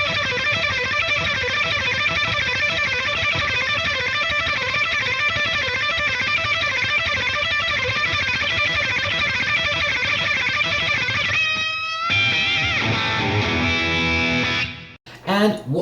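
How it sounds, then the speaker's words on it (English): An electric guitar plays a fast string-changing lick, repeated in a steady rhythmic pattern with a driven, effected tone for about twelve seconds, then a brief pause before the phrase returns with a different feel and ringing notes. "if we take this Paul's lick for changing strings and play it both ways"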